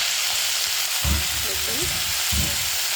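Spinach going into hot oil in a pan for a sweet star fruit and spinach chutney, with a steady broadband sizzle throughout and a few low stirring thumps.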